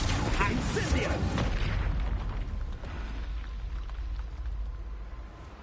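Explosive blast from the Confringo fire spell in Hogwarts Legacy, a loud booming burst that rumbles and fades over several seconds, with a voice shouting spell names over it.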